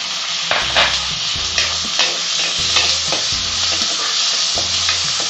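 Onion and tomato sauté in a pan while vadai mor kulambu is being cooked, giving a steady close sizzle broken by repeated scraping stir strokes and low clanks of the spatula against the pan.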